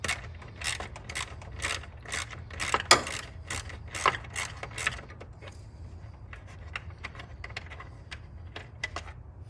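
Ratchet loosening the 8mm bolts holding the cooling fan assembly on a 2009 Ford Flex, rapid close clicking bursts in a steady rhythm that thin out toward the end.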